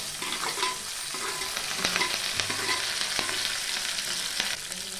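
Small shallots and curry leaves crackle and sizzle steadily in hot oil for a tamarind gravy, with scattered scraping stirs and occasional sharp pops, close and continuous with no talking.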